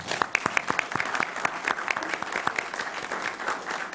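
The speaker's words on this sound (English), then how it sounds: "A round of applause for the Chamber of Commerce." Applause for the Chamber of Commerce from an audience at a Shreveport mayoral forum, crisp individual claps standing out over a steady crowd patter, fairly close and lively.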